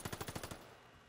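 SMG fire in a first-person shooter game: a rapid burst of about seven shots, evenly spaced and sharp, then a brief fading tail.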